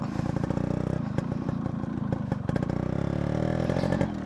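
The Yamaha RX100's two-stroke single rattles steadily at close range, a loud, raspy, crackling idle broken by a few small throttle blips and metallic ticks.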